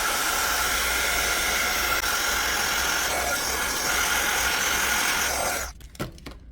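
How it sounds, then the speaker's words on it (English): A heat tool blasting hot air onto colored cookie icing to create a fine crackle effect, a loud steady roaring hiss held for several seconds before cutting off abruptly, leaving a few soft clicks. "We're just going to hit it with heat tool."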